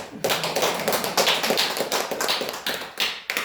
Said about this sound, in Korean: 우리 장로님 감사 박수 한번